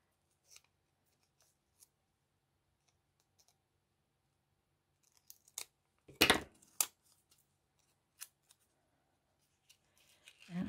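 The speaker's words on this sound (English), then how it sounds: "So we are going to snip half of this off." Scissors snip through a sheet of paper craft stickers in a quiet room: a few isolated, crisp cuts and clicks near the middle and end, with long silent gaps between them.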